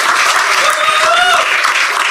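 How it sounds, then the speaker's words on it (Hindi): An audience bursts into dense, sustained applause at a live comedy show, many hands clapping loudly and evenly throughout. "जम से ताली बजाओ भाई"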